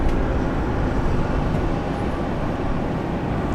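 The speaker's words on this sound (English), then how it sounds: "I think we've got the Qantas with the First Nations livery taking off." Broadband roar of a Qantas airliner in First Nations livery taking off at Sydney International Airport, a steady, loud rumble holding through the whole stretch with no voices.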